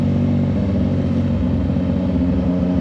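A CF Moto 675NK motorcycle engine with a new muffler idles close and loud, giving a steady, deep, throbbing rumble that stays even throughout.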